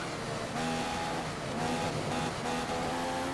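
Formula 1 car engine in F1 2015 at the Austrian Grand Prix, tyres badly worn: a steady, high, close engine drone with slight rises in pitch as the throttle is fed.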